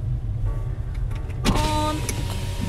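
An electric car window motor whirs, starting as a soft hum and then becoming a louder, closer whine with a click partway through, over the low idle rumble of a car at a safari park.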